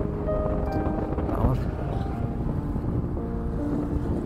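A motorcycle rides nearby on a rural lane among small houses and ponds, a steady low engine drone that runs the whole time under wind buffeting and faint voices.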